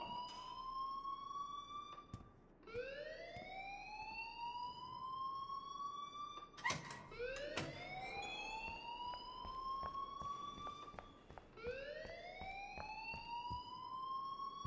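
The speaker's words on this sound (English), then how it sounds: "please turn off that alarm since that's your job." An alarm rings in the video game Life is Strange, with a repeating rising, wailing siren-like tone that sweeps upward every few seconds over steady background noise.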